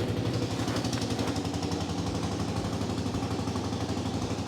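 Honda TRX200 quad with an aftermarket fuel tank idling steadily after a start, a close, continuous low engine chug with a rapid, even pulse and no talking.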